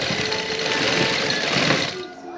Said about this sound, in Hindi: हम आपको स्टिच करके सिलाई लगा दिखाएंगे कि इसके अंदर सिलाई किस तरह लगाते हैं।